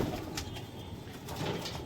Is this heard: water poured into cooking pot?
no